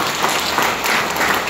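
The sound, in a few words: audience clapping loudly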